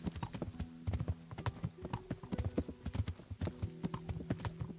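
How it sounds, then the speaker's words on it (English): Steady horse hooves clip-clop at a trotting rhythm in the video game Kingdom Come: Deliverance, crisp and close, with a low musical drone underneath. "controlling this horse"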